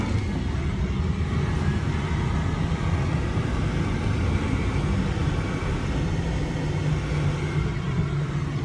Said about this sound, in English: I'm on my way, but there's traffic. There's a lot of traffic.